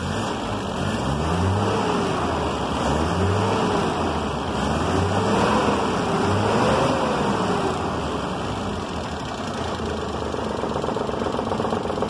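A car engine with a radiator being drained of rusty water, revved repeatedly in rising and falling surges over a steady idle, close by and loud, with no speech.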